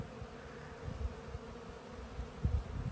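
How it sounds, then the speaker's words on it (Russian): Bees swarm around frames pulled from an open hive holding several bee types, including yellow bees and Carniolans, giving a steady, faint buzz with occasional louder passes of individual bees close by. "все равно здесь не один вид пчелы"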